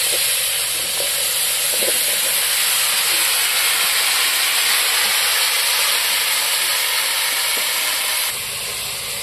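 Cauliflower and potato fry in oil left over from frying fish, making a loud, dense hiss and sizzle that holds steady for the whole stretch and eases slightly near the end.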